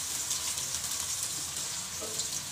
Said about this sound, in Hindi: 3 से 4 मिनट तक इसको हमने अच्छी तरह भूनना है, घी के अंदर तल लेना है।